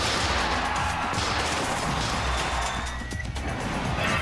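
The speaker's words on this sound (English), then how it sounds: "quelled the storm before crashing and bashing the Steel Avenger" Combat robots collide in a Robot Wars arena, a dense, loud continuous clatter of metal crashing and grinding that fills the whole moment without a pause.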